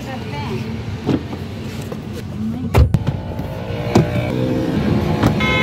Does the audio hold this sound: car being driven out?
yes